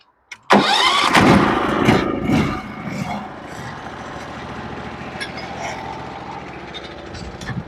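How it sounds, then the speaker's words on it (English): The engine of a Norwood HD36v2 sawmill cranks and roars to life with a sharp, loud start, then settles into a steady mid-pitched idle nearby, set up for milling walnut. "The mill's going to mess with the noise canceling a little bit, but here we go."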